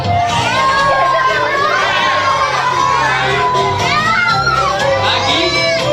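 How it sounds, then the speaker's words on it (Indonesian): Children at a Tedhak Siten seven-month baby ceremony shout and cheer together in a loud, continuous crowd roar, many young voices overlapping throughout. "Siapa yang suka hati teriak hore."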